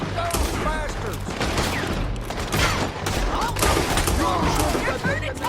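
Rapid gunfire from a Red Dead Redemption 2 town shootout, dense overlapping shots crackling nonstop, loud and close, with voices shouting beneath the barrage.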